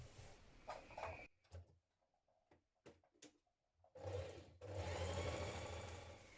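A sewing machine runs gathering stitches along the curved sleeve head of a summer dress: a close, steady whir, then a stretch of scattered clicks and pauses, then a louder sustained run to the end, with no talking.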